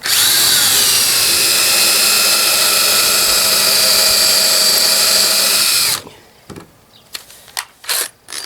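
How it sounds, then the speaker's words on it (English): A power drill with a pilot hole bit bores into wood, a loud continuous high whine for about six seconds that stops abruptly, followed by a few short clicks and knocks. "I drill a hole."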